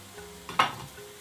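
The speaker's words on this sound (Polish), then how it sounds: "Po dodaniu natki oczywiście całość mieszam." A pan of pumpkin sauce with fresh parsley is stirred once, a brief scrape and soft sizzle swelling near the middle of the moment over a low, quiet simmer.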